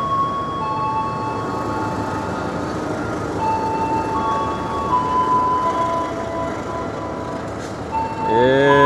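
Brantas economy passenger train heading to Solo Balapan, a steady rumble of the moving carriages with faint tonal squeals. A louder horn-like tone enters near the end.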